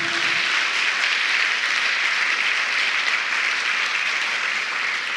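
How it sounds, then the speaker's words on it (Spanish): Church congregation applause during a Spanish-language sermon, a dense, even roar of many hands clapping, steady and loud for the whole stretch with no talk over it. "Podemos darle un aplauso a Jesús."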